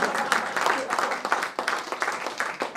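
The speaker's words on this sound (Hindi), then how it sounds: "और एक बार ताली।" Audience at a network marketing seminar giving a round of applause, a faint, steady patter of many hands clapping that continues briefly without a clear break.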